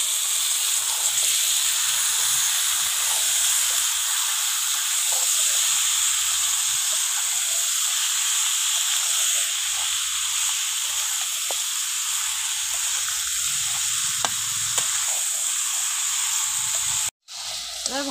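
Chicken pieces with cumin powder sizzle steadily in a hot pan, a loud, continuous hiss running unbroken for most of the stretch before a brief sharp cutoff near the end.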